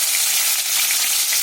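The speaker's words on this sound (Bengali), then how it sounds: "মাছগুলো কড়াতে দিয়ে দেবো। তেলটা বেশ গরম হয়ে গেছে।" Pieces of rohu fish frying in hot oil in a wok, a dense, steady hiss of sizzling close by, short and unbroken, no voices.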